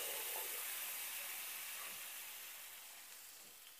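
Water poured into a pan of fried young jackfruit for a jackfruit curry sets off a loud, steady hiss of sizzling steam that fades slightly over a few seconds.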